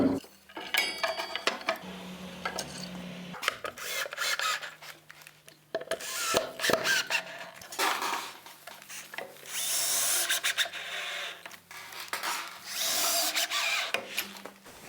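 Hand cross-cut saw working through oak casement timber, bursts of rasping strokes close by at an uneven rhythm with short pauses between runs.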